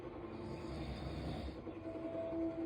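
A man sleeping on the couch snores with a low, rumbling drone, steady and close, in a quiet room at home.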